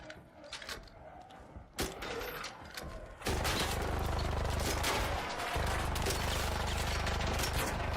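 Gunfire in the ARC Raiders video game: a scattered volley of sharp reports that turns into a dense, loud, sustained burst of shots with mechanical clatter, heard on its own without talk.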